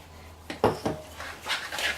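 Spoon clinking and scraping against a bowl while stirring eggs and brown sugar together for apple rhubarb muffin batter; a few close, distinct taps and scrapes in an uneven rhythm, no talking.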